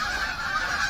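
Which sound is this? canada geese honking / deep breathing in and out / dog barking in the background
canada geese honking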